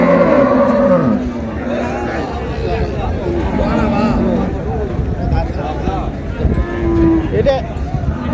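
Cows and calves moo repeatedly at a busy rural cattle market in Raniganj, with long, loud bellows near and farther off over a steady crowd murmur and nearby talk.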